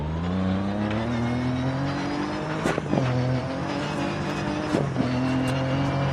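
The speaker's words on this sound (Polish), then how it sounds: "Ok, teraz spróbujesz wyczuć, jak samochód zwalnia." A rally car in the Dirt 4 video game drives hard with a loud, continuous engine drone, its pitch climbing and dropping through gear changes as it eases off, with brief bursts of gravel or tire noise.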